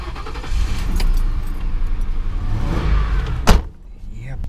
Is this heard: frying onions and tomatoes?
no